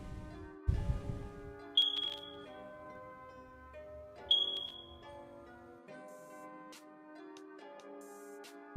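Short electronic chirps from a smoke or fire alarm, two clear high beeps a few seconds apart, heard over steady music from a Star Citizen game session.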